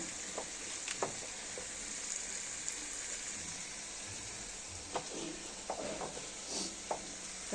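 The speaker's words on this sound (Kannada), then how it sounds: "ಸೊ ಫಸ್ಟ್ ಇದನ್ನೆಲ್ಲ ನೀಟಾಗಿ ಫ್ರೈ ಮಾಡ್ಕೊಳ್ಳಿ" Vegetables fry in a pan with a steady broadband sizzle, broken by occasional sharper crackles and stirring clicks, at moderate loudness with no voices.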